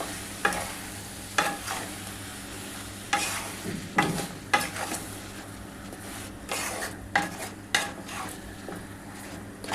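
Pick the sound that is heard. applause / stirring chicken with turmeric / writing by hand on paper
stirring chicken with turmeric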